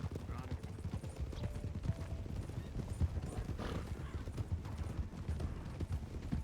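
Horses clip-clop steadily in the RedM video game, a continuous mid-distance patter of hoofbeats with a faint whinny, while voices talk over it.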